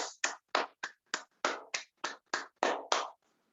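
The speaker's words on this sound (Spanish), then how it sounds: "Aplauso para todos." About a dozen separate sharp claps in a fairly steady rhythm during a dance coaching session, crisp and close with short silences between each hit.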